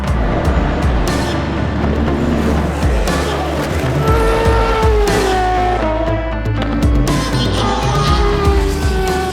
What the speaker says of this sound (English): Number 8 Toyota really under pressure for the lead of the race, and Riberas goes through, takes the lead